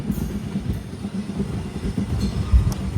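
Kadapa to Guntakal special express train running in the morning, a steady low rumble of wheels and carriage with faint rhythmic clatter, heard from inside an empty coach with no talk.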